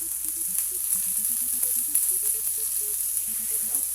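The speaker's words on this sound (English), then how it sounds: "Then we're gonna fry the shrimps." Shrimp frying in a pan give off a steady, even sizzle and crackle with small scattered pops, close and continuous, with no talking.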